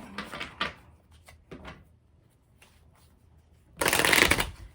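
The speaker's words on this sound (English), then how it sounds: "And I'm going to shuffle one more time." Tarot cards shuffled by hand close by, with a few crisp riffles and taps early on, a quiet pause, then a louder, dense bridging riffle near the end.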